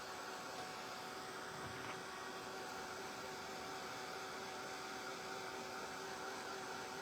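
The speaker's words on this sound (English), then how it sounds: "I'm now going to take my dryer and I'm going to dry this" A steady hair dryer blows with a constant airy roar and faint motor whine, unbroken throughout, fairly quiet and with no voices.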